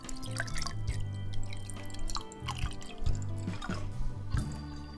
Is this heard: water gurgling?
yes